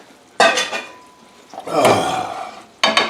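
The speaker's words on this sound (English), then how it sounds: "Now we add these meatballs back." Chicken meatballs go back into a pan of garlic cognac sauce: a few close, loud clanks and scrapes of a spoon against the pan, with a soft wet stir between them.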